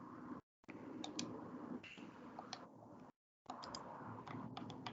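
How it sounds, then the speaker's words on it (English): Rapid controller or keyboard clicks while browsing the Xbox menu, a run of light close ticks over steady low background hum, broken by two brief dropouts. "Oh, excuse the clicking."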